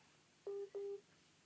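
Two short electronic phone tones, like keypad beeps or a ringtone chirp, sound in quick succession from a mobile phone during a church sermon, fairly clear against a quiet room.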